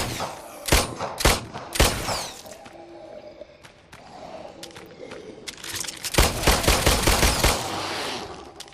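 Gunfire in The Brookhaven Experiment VR game comes in loud, sharp bursts. Several quick shots open the clip, a quieter stretch with mechanical handling follows, then a dense rapid volley near the end.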